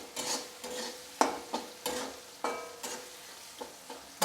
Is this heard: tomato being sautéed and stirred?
yes